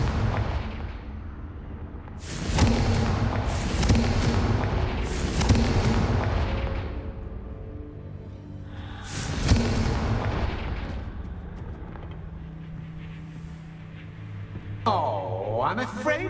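Confringo fire spell explosions in the Hogwarts Legacy video game, several loud booming blasts a second or two apart with rumbling decays, followed by a quieter stretch and a swooping magical tone near the end.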